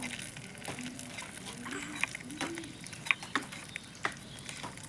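Pointed gourd (potol) pieces frying in hot oil in a pan, a soft steady sizzle with scattered crackles and light pops, close and quiet with no talking.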